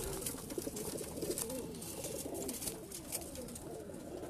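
Breeder pigeons coo steadily in a loft, their low rolling calls overlapping in a constant murmur over background noise, with no pause throughout.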